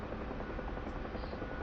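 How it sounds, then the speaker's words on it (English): Simulated Huey helicopter in the DCS flight game, main rotor windmilling in autorotation, giving a steady muffled thumping drone with rapid even blade pulses, continuous and fairly quiet. "this airflow keeps the main rotor turning"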